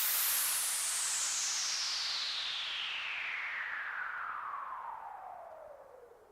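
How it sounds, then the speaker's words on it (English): White noise from a Eurorack modular synth patch, run through delay and heavy reverb, plays as a loud continuous wash of hiss that slowly sweeps downward in tone, darkening and fading slightly toward the end. "It's just white noise. So we put it through some delay and through a bunch of reverb."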